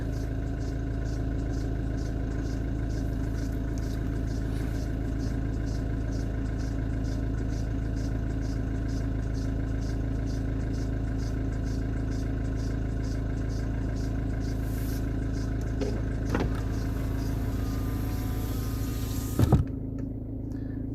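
A Mazda 3 engine idles steadily with a constant low hum and a faint higher whine, running on its own with a brief clunk near the end.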